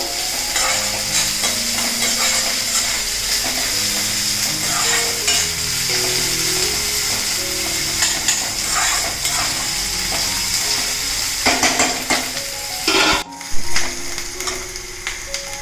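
Onions and chopped banana flower fry and get stirred in a pan for a South Indian poriyal, with a steady sizzle under repeated scraping and clinking strokes, close and fairly loud throughout.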